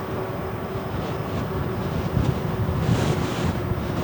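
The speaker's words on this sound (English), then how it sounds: "All right, so the wind is picking up." Wind buffets the microphone of a moving e-bike rider, a steady rough roar with gusty swells throughout, heard alone.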